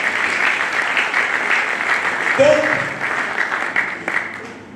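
Audience clapping at a gathering addressed by an archbishop, a continuous spread of hands from a crowd that swells midway and then tapers off, with a voice briefly speaking over it.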